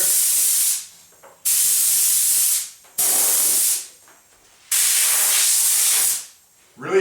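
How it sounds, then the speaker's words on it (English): An air compressor blows dust off a laminate countertop tabletop in four loud bursts of hissing air, each lasting about a second, with short quiet gaps between them. "I'm just going to give it a blow with my compressor"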